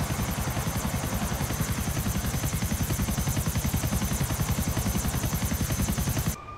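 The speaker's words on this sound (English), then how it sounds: "If you fly close to the water with a chopper" A helicopter's rotor thumps in a fast, steady rhythm with a loud engine whine, close and continuous before cutting off abruptly at the end, in the video game GTA 4.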